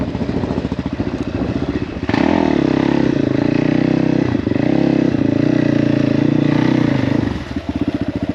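A Crossfire motorcycle engine labours loudly on an uphill enduro climb, with a steady low drone that swells into sustained hard revving from about two seconds and dips briefly near the end, along with some clattering.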